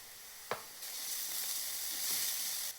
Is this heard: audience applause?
no